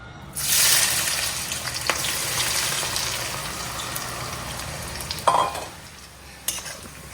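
Chicken pieces drop into a hot wok with onions, bursting into a loud sizzle that settles into steady frying hiss, with a few stirring scrapes and clinks toward the end.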